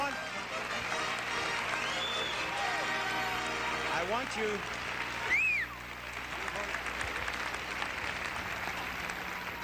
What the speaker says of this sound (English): They were applauding so they didn't hear you.